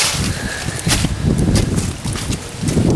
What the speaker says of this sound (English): Hope you can hear me, very windy.